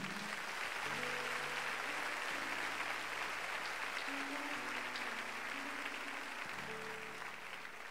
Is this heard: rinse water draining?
no